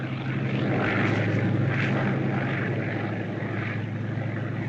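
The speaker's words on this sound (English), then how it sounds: "Scouting plane." A propeller-driven scouting plane drones overhead, its engine a steady loud hum with slowly swelling and fading tones as it passes, heard alone.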